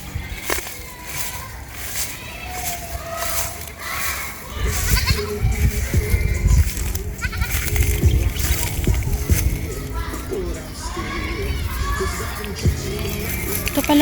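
Goats bleat repeatedly while grazing in a hot, sunny pasture, several calls rising over rustling and ambient farm noise, with a voice speaking briefly in between.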